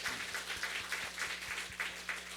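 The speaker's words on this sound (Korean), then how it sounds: "이 멤버로 참여하신 분들에게 박수로" Church congregation applauding during a Sunday service, a steady wash of many hands clapping together at moderate distance, continuous for the whole stretch with low rumble beneath.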